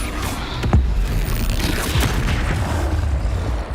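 A Bombarda blasting spell goes off in a Harry Potter video game, a deep boom near the start followed by a second thud, over a dense, noisy rumble of game effects and ambience.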